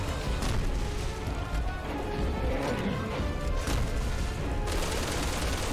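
Gunfire in the video game Resident Evil 6: a dense, loud barrage of shots that runs almost without a break, with crashing impacts mixed in.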